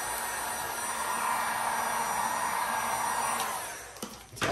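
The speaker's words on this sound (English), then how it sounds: "I'm gonna use my heat gun here and just loosen this part up real quick" A heat gun blows a steady, loud airy roar while softening vinyl wrap on a wheel, tapering off near the end with a few light handling knocks.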